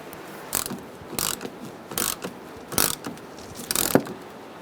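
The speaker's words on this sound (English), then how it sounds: "Now we're going to bolt it down with bolts on either side" A hand ratchet clicks in six short bursts, tightening the bolts that hold the front bumper cover on a 2010-2013 Kia Soul, each burst a quick rapid-fire run of close metallic clicks with brief pauses between.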